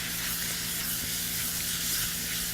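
Apples with sugar and cinnamon sautéing in a pan give a steady, soft sizzle and hiss throughout, moderately quiet and without talk.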